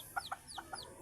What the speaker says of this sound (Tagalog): Isang sisiw lang ang maswerteng napisa.